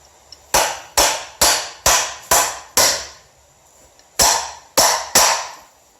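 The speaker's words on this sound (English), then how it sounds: "Using another crescent wrench to hammer it in" A crescent wrench used as a hammer drives a nail with nine sharp metallic strikes, close and loud, in a steady rhythm broken by one short pause before the final three blows.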